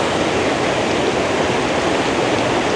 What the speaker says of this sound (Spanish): El corriente del río es muy fuerte